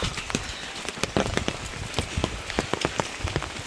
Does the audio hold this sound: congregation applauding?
no